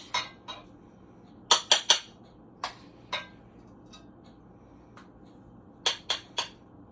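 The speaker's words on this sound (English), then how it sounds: "I'll put some of these in this dish." Mashed potatoes are spooned into a dish, with sharp metal spoon clinks and taps against the dish in short clusters over a quiet background.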